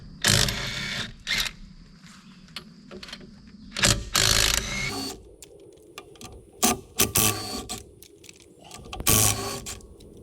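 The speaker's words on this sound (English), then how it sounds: "So Bob's ready to jack her up as needed." A jack works under a cargo trailer, putting out bursts of ratcheting, clicking and clanking in short irregular runs with quiet gaps between them, close by and with no talk.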